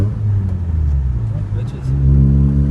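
A Mazda RX8 engine revs loudly up close, a steady low drone that dips briefly then rises to a stronger, higher rev near the end, with faint voices underneath.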